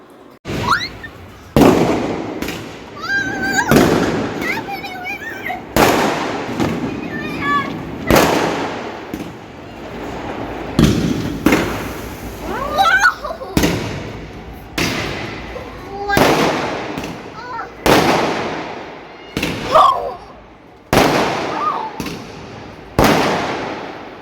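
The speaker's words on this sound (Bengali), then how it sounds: "একটুখানি ফায়ার ক্র্যাকার ফুটলো বাইরে" Firecrackers bursting outside at night, caught from a balcony, a long run of sharp loud bangs and crackling pops at irregular intervals, some close and booming, others farther off, with echoes trailing each burst.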